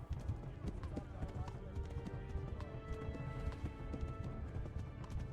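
Horse hooves gallop steadily in the medieval game Kingdom Come Deliverance, a continuous close clip-clop rhythm with occasional whinnies under a busy, dense mix of game sounds and a voice talking.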